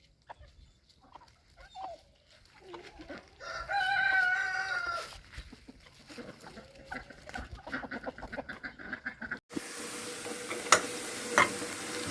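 A rooster crows somewhere in the distance, a drawn-out call standing out over background clatter and rustling, followed by a steady hiss.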